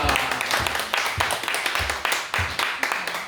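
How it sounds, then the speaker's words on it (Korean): A church congregation at a Monday evening worship service applauds, scattered clapping with uneven, overlapping beats across a few seconds at moderate loudness. "우리 박수 한번 해주시기 바랍니다"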